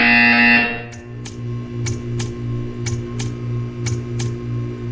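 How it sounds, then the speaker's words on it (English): An electronic buzzer in the video game Portal 2 sounds in a steady run of short repeated pulses over a low hum, after a brief louder tone at the start. "You will hear a buzzer."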